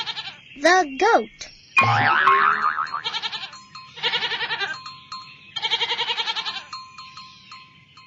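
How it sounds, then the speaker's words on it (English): A goat bleats in several wavering, nasal calls, loud and close, separated by short pauses and occasional farmyard noise. "The goat."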